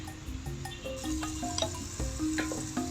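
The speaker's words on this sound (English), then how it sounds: "she's going to stir the tomatoes until they become a paste, or until they cook into a paste" Tomatoes stirred in a pot over a cooking fire in an African village, cooking down into a paste, with a soft steady sizzle and occasional scraping clinks of the spoon.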